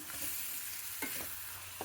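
Okra and greens sizzle steadily while frying in a pan for masala bhindi, with a few brief stirring scrapes on top and no voices.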